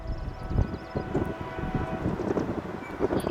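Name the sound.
freight train approaching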